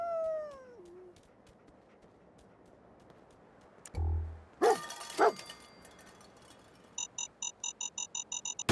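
Dogmeat, the dog companion in Fallout 4, lets out a few short barks amid game sounds, followed by a fast run of rhythmic electronic beeps.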